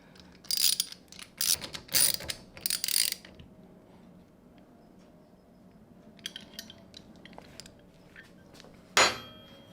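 Metallic ratcheting bursts come from tightening a nylon nut on Yamaha R1 Vortex rearsets, several quick rapid runs up close, then quiet, faint clinks and one final loud clack.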